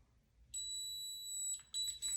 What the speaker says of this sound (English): So you can hear it's beeping a little bit closer together.